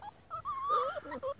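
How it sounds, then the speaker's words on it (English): Part-wolf puppies whimpering early in the morning, a run of high, wavering whines and yips close by, rising and falling in short bursts with brief gaps between. "These are my puppies early in the morning."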